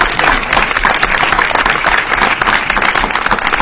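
A cinema audience gives loud, close applause to a film director and his cast, with dense clapping that holds steady throughout and no voices rising above it.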